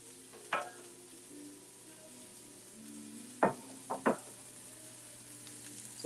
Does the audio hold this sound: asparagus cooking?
yes